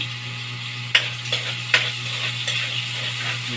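Food being stir-fried with oyster sauce in a pan: a steady low sizzle and hum, broken by a few sharp utensil scrapes and knocks against the pan at uneven intervals.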